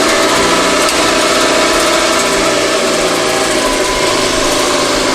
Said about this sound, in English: Switch on the engine.